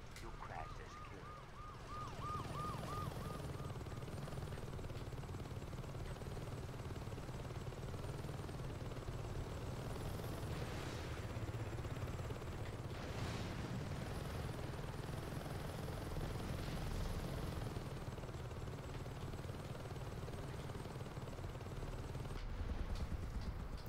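A helicopter in the video game Saints Row 2 drones steadily and loudly throughout, its rotor wash filling the scene, with siren-like wails rising and falling over the engine roar.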